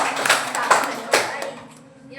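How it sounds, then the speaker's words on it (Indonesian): Students in an Indonesian classroom give a short round of applause for a classmate, a few scattered claps fading out over about two seconds, moderately close. "Kasih aplaus untuk temannya."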